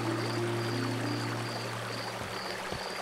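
A babbling brook flows in The Night of the Rabbit video game, a steady gurgling water stream with a low hum and faint repeating tones underneath, heard alone without talk.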